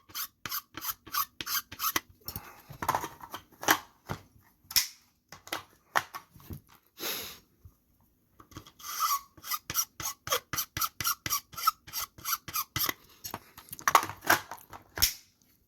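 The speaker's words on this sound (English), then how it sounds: "Hold that down, just run a file over these guys." A hand file rasps across the body of an AK magazine being fitted to the rifle, repeated quick scraping strokes in bursts with short pauses, close and fairly loud, no voices.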